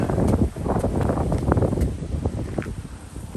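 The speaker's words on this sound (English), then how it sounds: "Windy day in Tenerife." Gusty wind on a windy day in Tenerife buffets the microphone with loud, continuous rumbling and rustling that rises and falls without a break.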